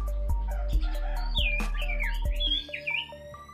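A sirtu songbird sings bright, varied chirps and whistled phrases nearby, over a steady low electrical hum with faint rhythmic ticking.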